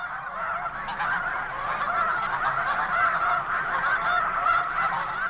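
Snow geese honk in a dense, continuous chorus on the open tundra during the moult, a steady loud flock clamour lasting the whole stretch with no voices over it.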